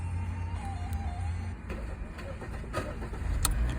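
Hyundai car engine turned over with pliers in place of the ignition, cranking and catching under steady idle noise, fairly faint and close, with a few clicks.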